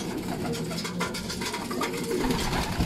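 Young pigeons make soft, close cooing and rustling sounds in quick, irregular bursts, with no speech.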